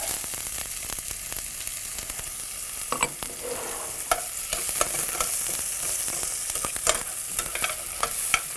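Onion sizzling as it drops into a hot pan of cumin while cooking potato kale rolls, a steady crackling fry with scattered louder pops and stirring, close and moderately loud, no talking.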